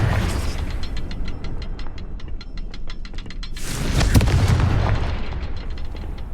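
A Confringo spell explosion in the video game Hogwarts Legacy: a loud, rolling blast with a rapid crackling burst, followed by a heavier boom that swells and fades.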